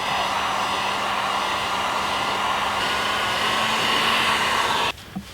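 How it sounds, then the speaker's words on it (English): Heat gun blowing steadily and loudly while trim is peeled off a vehicle's quarter panel during an off-road armor install, a continuous hot-air roar that cuts off abruptly near the end. "then you use your heat gun, just let it peel back"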